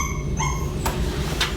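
A malnourished, abandoned dog whimpers in thin high whines, then gives two sharp yips or barks, fairly close over a steady low background hum, with no speech.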